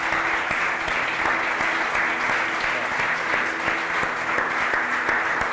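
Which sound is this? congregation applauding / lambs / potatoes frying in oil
congregation applauding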